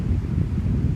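Strong wind gusting across the microphone at a lakeside campground, a steady low roar with constant buffeting and no pauses.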